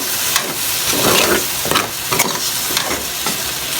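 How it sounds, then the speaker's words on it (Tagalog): Lomi ingredients with a ladle of fish sauce are stirred in a pot, giving scraping strokes over a steady sizzle, loud and close, with no talking. "Mix lang natin."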